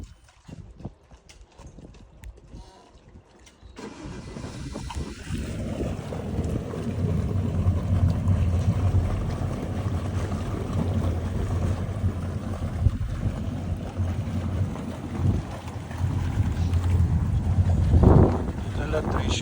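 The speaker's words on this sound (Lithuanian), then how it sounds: "dabar varikliai šiek tiek šyla" Idling boat engines, warmed up at the mooring before the last outing of the 2025 season, give a steady low rumble that starts after about four seconds and continues alongside wind noise.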